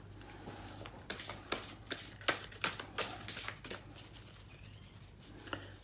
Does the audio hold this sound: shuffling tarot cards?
yes